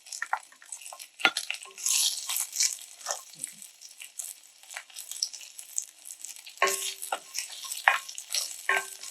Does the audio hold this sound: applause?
no